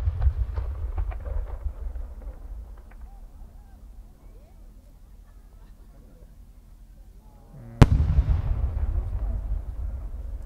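A single No. 8 aerial fireworks shell bursts with a sharp, loud crack during a competition at the Aizu fireworks festival. A low rumble from the crowd and the surroundings comes before it, and a rolling echo and crackle follow it.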